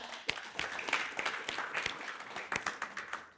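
A small crowd at a literary award nominee event applauds, the claps dense and irregular, steady in volume throughout without any voices.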